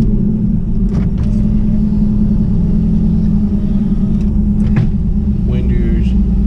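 Car engine pulling away in first gear, a steady loud low rumble held throughout under a voice, with a few brief higher sounds over it.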